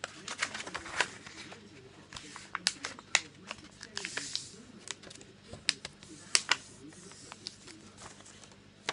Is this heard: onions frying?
no